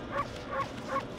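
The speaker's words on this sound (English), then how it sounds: "it's not the greatest wolf bark I've ever heard" Wolf barks from the video game Okami HD, three short evenly spaced yips in quick succession, faint and alone.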